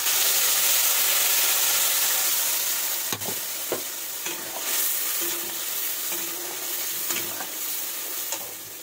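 Spice paste for a chunky vegetable-stem curry sizzling and frying steadily in an uncovered pan, a continuous loud hiss broken by a few sharp clinks and scraping stirs.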